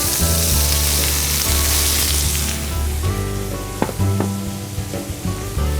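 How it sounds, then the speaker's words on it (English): Meat for a Sunday slow roast is flipped in a hot pan, a loud, steady browning sizzle running throughout, broken by a couple of dull clunks as the pieces are turned and settle. "we're going to turn this over, start to brown the other side"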